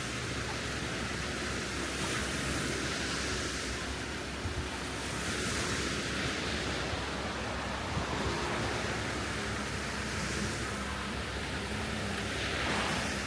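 Waves roll onto a beach on Phu Quoc Island, Vietnam, as a steady broadband wash of surf with gusty wind buffeting the microphone, with no voices.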